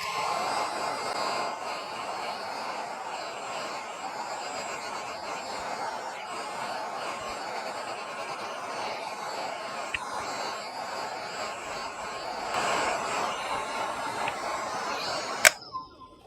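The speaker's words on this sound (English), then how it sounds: "I'm going to go ahead and use my dryer" A hair dryer blows steadily at close range, a constant airy whir that ends with a sharp click as it switches off.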